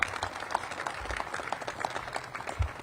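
Scattered applause from an audience at a mayoral police-hiring announcement, sparse, uneven claps with a few louder individual hits, moderately close and thin rather than a full ovation.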